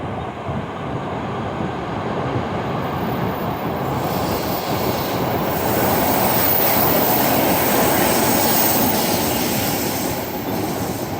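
A train rolls past apartments in Ho Chi Minh City at night, a steady broadband rumble and wheel hiss that swells slightly and holds for several seconds, moderately loud and nearby, with no voices.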